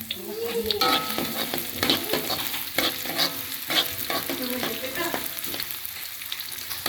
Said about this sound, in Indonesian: Kalau udah panas kita masukin bawang merah, bawang putih yang sudah diiris. Jangan lupa minyaknya ya.